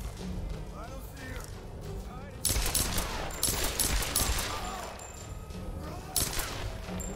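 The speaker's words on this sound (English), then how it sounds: "She's shooting at us." Rapid gunfire from enemies in the Tomb Raider video game, a dense continuous volley of shots with louder bursts, heard under a player's talk.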